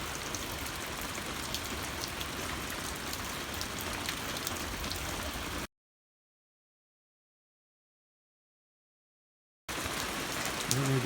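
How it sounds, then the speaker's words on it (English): Steady outdoor rain patters over a pasture at night in a dense, even hiss, cut by a stretch of silence before the downpour resumes just as steadily. "It's still raining. Slow, but raining."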